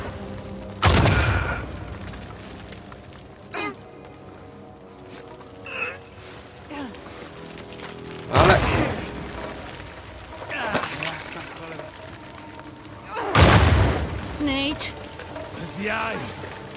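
Explosions from traps going off in the PS4 game Uncharted 4, three heavy booming blasts spaced several seconds apart, with smaller thuds and debris between them and someone talking over the action.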